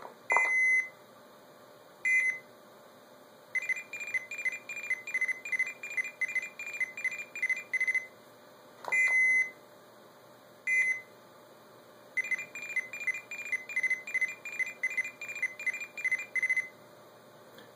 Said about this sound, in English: Four is the CCITT number 4, the one with the very musical